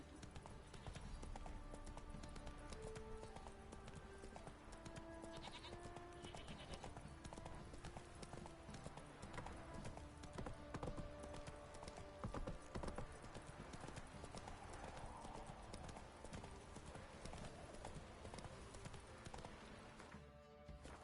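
Video game horse Roach gallops with a steady, continuous clip-clop of hooves, joined by faint whinnies and game sounds in the background.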